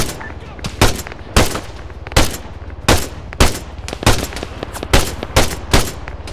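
Machine gun and rifle fire in the military shooter ARMA III, with sharp bursts repeating at a steady, roughly half-second rhythm over a constant background hum, loud and close.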